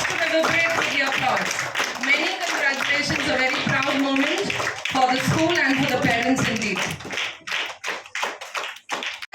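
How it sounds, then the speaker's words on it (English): Auditorium audience at a school awards event applauding, dense clapping filling most of the stretch under a speaking voice, then thinning into scattered individual claps near the end. "let the audience continue with the applause"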